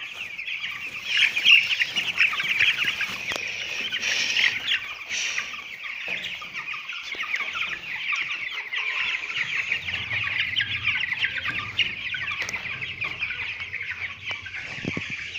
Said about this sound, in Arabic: هنبدأ كده نحرك الفراخ عشان تشرب من المية اللي احنا حطينا فيها